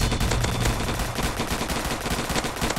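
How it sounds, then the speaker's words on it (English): Ghost gun firing in the Roblox game Zombie Attack, a dense, continuous burst of rapid electronic gunshots that stays loud and steady throughout with no talking. "I can shoot from above. Should go down."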